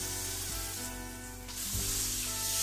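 Beef searing on a hot griddle gives a steady, close sizzle throughout, with a brief scrape or stir as the meat is turned, no voices.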